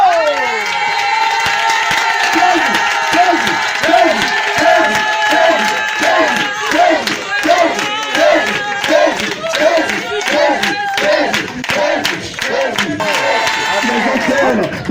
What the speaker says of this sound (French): Si tu es présent là, lève-toi et acclame Jésus.